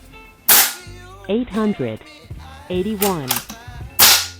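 Shots from an FX Wildcat Compact .22 caliber air rifle, two sharp cracking pops at the start and end, with someone speaking numbers between them.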